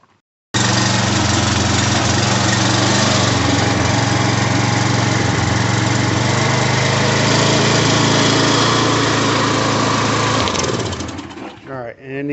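A Briggs & Stratton 875EX engine on a Troy-Bilt pressure washer starts abruptly and runs loud and close at a steady roar, then sputters and cuts out near the end.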